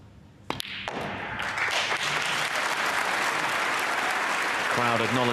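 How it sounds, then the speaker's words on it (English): Snooker crowd applauding a frame ball at a final, sustained applause swelling and holding steady after a sharp opening clap, with faint talk underneath. "Crowd acknowledging frame ball."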